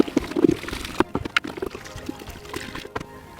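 Water poured into a 5-gallon bucket packed with plant vegetation: an uneven splashing and gurgling pour with several sharper splashes early on, then settling into a softer trickle.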